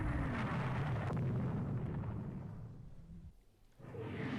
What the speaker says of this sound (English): I put a torpedo in to finish the job.